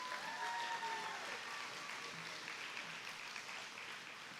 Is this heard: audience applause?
yes